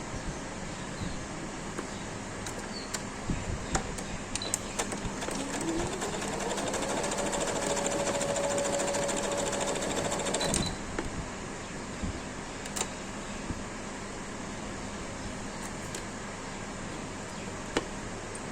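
A sewing machine runs a seam along the shoulder of a baby frock, a steady mechanical whir with rapid ticking stitches, one sustained run in the middle and lighter clicks around it.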